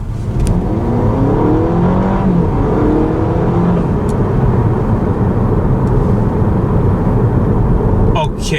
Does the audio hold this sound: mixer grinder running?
no